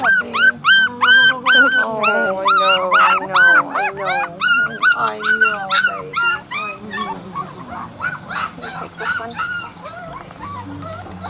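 Several rescued puppies found under a garage whimper and yip in high, wavering cries, close and loud and overlapping for most of the clip, while people speak softly among them.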